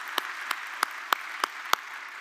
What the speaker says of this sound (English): please join me in a big applause for our three speakers, David, Raveen, and Patrick